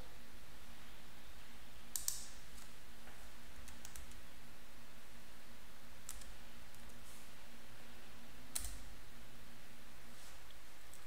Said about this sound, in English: type in the symbol for your futures contract